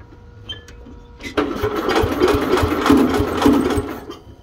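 A 1964 Cub Cadet 100 lawn tractor engine cranks over after a quiet start, a loud, close, rapid rhythmic churning that runs steadily to the end.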